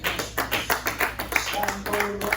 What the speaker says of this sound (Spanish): ¿Por qué no dar un fuerte aplauso al Señor?